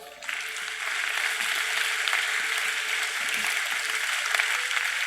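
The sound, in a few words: church congregation applauding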